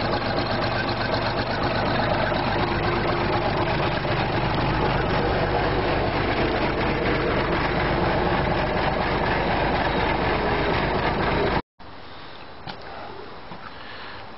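An old Case machine fitted with a replacement Volvo engine runs steadily with a loud, continuous mechanical drone and rattle, which cuts out abruptly near the end before quieter background noise returns.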